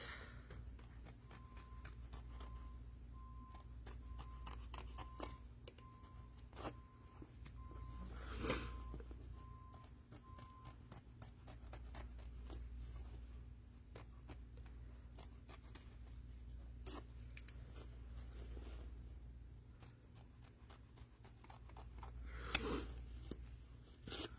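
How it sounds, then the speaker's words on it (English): Excess material is trimmed from a Valentine swirl coaster with repeated quiet snips and faint rustling close by, spaced irregularly over a low background hum. "we're going to trim the excess."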